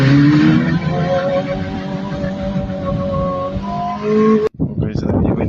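A drag race car accelerates hard from first into second gear, a loud rising engine note with a sharp break near the end as the gear changes, while people talk over it.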